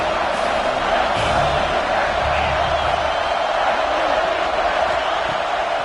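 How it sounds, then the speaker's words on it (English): A dense, steady roar from a large football stadium crowd at a Georgia vs Auburn game swells continuously without a break, broad and loud, with indistinct voices blended throughout. "This crowd knows when to bring it."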